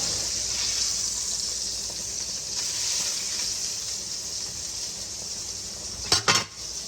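Salmon fillet sizzling in a pan after being flipped, with a steady bright hiss of hot oil and fat, then a brief clatter of a utensil against the pan near the end.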